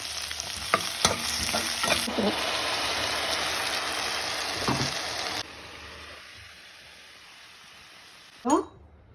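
Ginger garlic paste and ground tomato fry in oil in a kadai with a dense, loud sizzle and occasional stirring scrapes, which suddenly drop to a quieter simmer before a brief utensil clink near the end.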